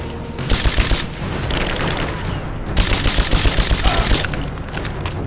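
Dense video game gunfire in an abandoned mines battle, loud and continuous bursts of automatic fire with rapid cracks and a few heavier booms throughout.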